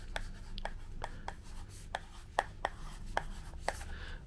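A plastic stylus writes on a Boogie Board e-writing tablet that can still write but no longer erase, heard as a quick series of close, light tapping and scratching strokes, evenly spaced, over a steady background hum.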